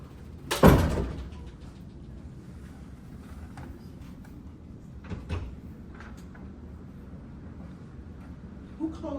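A door inside a school district building shuts with one sharp, close thud, followed by a quieter room with a softer knock and faint shuffling later on.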